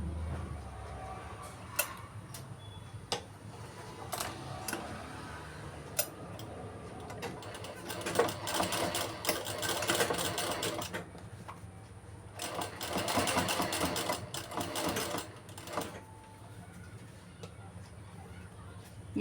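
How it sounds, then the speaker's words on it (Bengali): A sewing machine stitches a shirt collar, running in two distinct bursts of rapid, buzzing needle strokes, with quiet ticking and handling noises in the pauses between them. "তো আমি সোজা সেলাই করে নিচ্ছি"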